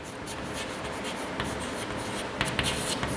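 Pen scratching steadily across paper while place values are written out for a fifth-grade counting lesson, a close, continuous scribble with a few sharper strokes near the end.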